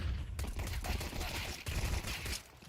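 Gunfire from a competitive Counter-Strike esports match with a P250 pistol in play, dense rapid shots and fusillade bursts filling the whole stretch, loud and continuous, with no speech heard over it.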